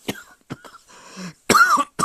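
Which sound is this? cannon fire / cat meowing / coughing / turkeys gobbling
coughing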